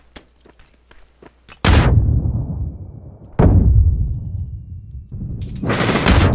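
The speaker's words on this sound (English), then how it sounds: "He's throwing a grenade." Grenade explosions in the PUBG video game: two loud, deep booming blasts with long rumbling decays, then a third rising blast, after faint scattered footsteps and clicks at the start.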